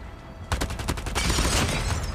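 A BK57 rifle fires in Call of Duty Mobile, a rapid burst of loud gunshots that starts abruptly after a brief pause and runs to the end, with no talk.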